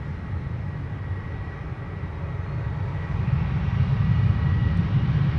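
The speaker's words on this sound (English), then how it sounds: "That's the Embraer 175 to Frankfurt. Pedal to the metal." An Embraer 175 jet bound for Frankfurt powers up for takeoff at Amsterdam Schiphol, a low rumbling engine roar that builds noticeably louder in the second half, heard alone without talk.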